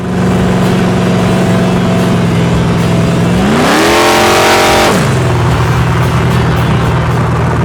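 A 1969 Camaro engine revs once, loud and close, its pitch sweeping up sharply, holding briefly, then dropping back to a rumbling idle.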